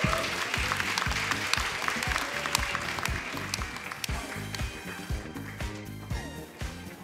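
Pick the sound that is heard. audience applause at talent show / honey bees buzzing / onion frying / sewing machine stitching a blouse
audience applause at talent show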